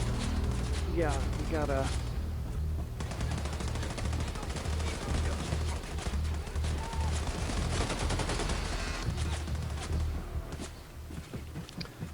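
Rapid automatic gunfire and bursts of shots in the first-person shooter Wolfenstein: The New Colossus crackle loudly and almost continuously, mixed with game sounds, while a player talks over the combat.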